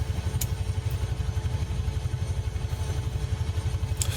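A UH-1 Iroquois Huey helicopter engine in a flight simulator, a steady close-up throbbing beat of rotor and engine running continuously, loud and even, with a couple of brief clicks.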